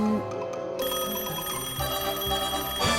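A cartoon character's voice imitates a ringing telephone with repeated trilling bursts, a close, loud, rhythmic ring over background music.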